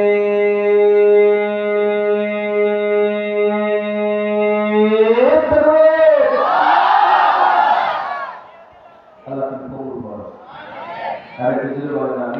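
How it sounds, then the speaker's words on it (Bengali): A leader's long sung call rings out alone, then a large crowd at an Islamic sermon gathering roars the takbir together in a loud, echoing unison shout, followed by further rougher crowd voices. "এবার আমরা সবাই মিলে তিনটা তাকবীর দিয়ে মূল আলোচনায় ঢুকে যাব"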